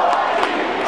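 A rally crowd at a Campaign for Liberty event shouts in unison, a loud, dense surge of many voices chanting a short slogan.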